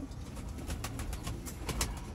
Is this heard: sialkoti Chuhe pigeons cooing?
yes